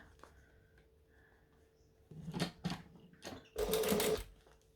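Sewing machine running a long decorative top stitch, heard as a few short whirring bursts, the last and loudest lasting about half a second, separated by quiet gaps.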